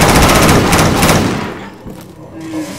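Rapid gunfire in Left 4 Dead 2 comes as a loud, dense burst of automatic shots that cuts off after about a second and a half and fades into quieter game noise.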